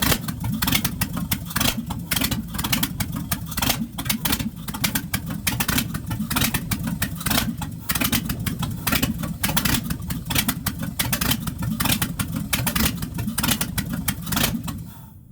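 A carbureted car engine idles steadily with a rough, loping rhythm, loud and close, running alone for the whole stretch.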